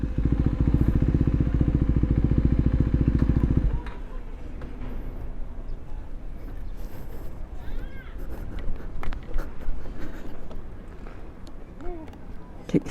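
A KTM 690 Duke R single-cylinder motorcycle with an Akrapovic full exhaust system idles loudly with a deep, rapid thumping for a few seconds, then cuts off; afterward people talk nearby amid clattering and handling noises.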